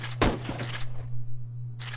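Lee-Enfield rifle shot in a video game: one sharp loud crack near the start with a short echoing tail, then quiet with a steady low hum underneath.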